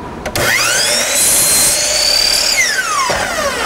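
A power saw cutting wood for a door frame, a loud whine that rises sharply as the blade spins up, holds steady through the cut, then winds down near the end, heard alone.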